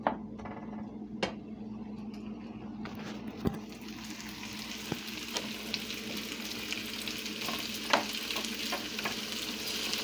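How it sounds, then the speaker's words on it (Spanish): Potatoes with pepper strips and onion fry in a pan, giving a steady close sizzle with occasional scrapes and taps of stirring, no voices. "Que se siga friendo."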